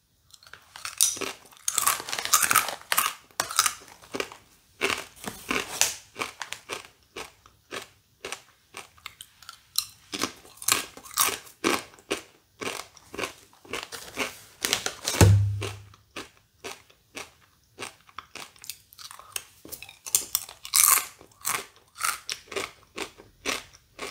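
Bacon-flavoured cassava chips crunched and chewed up close, a long run of sharp crisp bites and crackly chewing in irregular bursts with brief pauses, faint and intimate with no talk.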